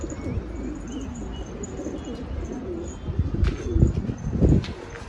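Pigeons and doves out on a street after being released, cooing and chirping through steady outdoor background noise, with a louder flurry toward the end as birds fly about and land nearby.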